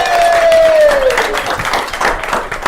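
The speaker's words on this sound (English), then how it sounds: "Give them a big round of applause" A live-show audience claps for a volunteer called up on stage, a short burst of close, dense applause with a brief descending whistle-like tone early on, fading slightly toward the end.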